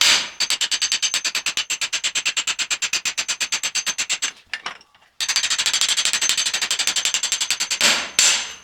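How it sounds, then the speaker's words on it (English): Rapid metallic hammer blows drive a punch against a stuck part on a Yamaha SRX 700 snowmobile, a dense steady string of close, loud strikes that pauses briefly midway, then resumes. "I'm just going to take a hammer and punch here and see if I can just keep walking it back."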